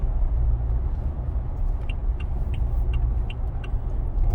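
GWM Tank 300 SUV cruising in sixth gear with an electronic shifter, a steady low road and engine rumble with faint ticking above it, continuous and even throughout.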